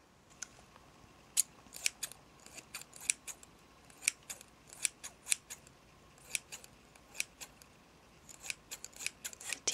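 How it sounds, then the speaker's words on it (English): Scissors snip through shoulder-length, freshly sprayed hair during a quiet haircut, with crisp, close metallic cuts coming in irregular clusters over a near-silent background. "Okay, I'm going to use the scissors now."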